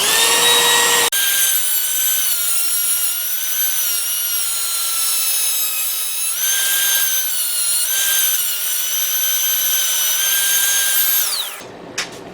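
Hand tool grinding through metal, the same tool once used to cut a Toyota tie rod end, makes a continuous harsh, high-pitched scraping screech with slight wavering strokes, loud and close, ending in a brief clatter.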